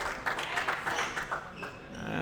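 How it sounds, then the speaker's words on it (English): Malaysian players give polite applause courtside at a PSA Challenger squash match at the 2022 Auckland Open. A few faint, scattered claps sound from a distance over low room noise. "And the polite applause coming from the Malaysian players."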